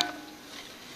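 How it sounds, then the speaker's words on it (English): Spice paste with yogurt stir-frying in a pan, a faint, steady sizzle with soft stirring scrapes, quiet and continuous. "I am going to stir fry this till my paste starts leaving the oil"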